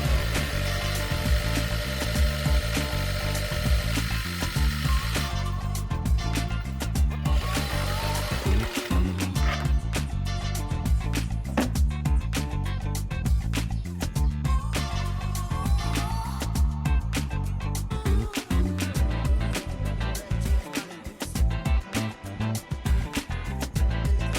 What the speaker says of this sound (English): you're going to use the sewing machine to stitch the bottom elastic casing